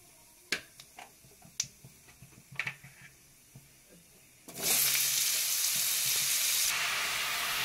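Chopped ash gourd tipped into hot oil with whole cumin, dried red chilli, green cardamom and leaves: first scattered crackles and pops of spices, then a sudden loud, sustained rush of sizzling up close that continues steadily to the end.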